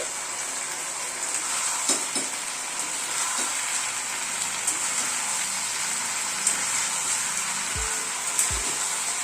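Eggs with soy sauce sizzle in a hot pan, a continuous close frying hiss with faint crackles and a couple of soft utensil knocks near the end, no voices.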